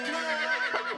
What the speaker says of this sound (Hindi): ये घोड़ा है।